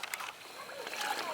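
Soapy clothes being rinsed by hand in water at a pioneer village living-history demonstration, with soft close splashing and sloshing over a brief moment.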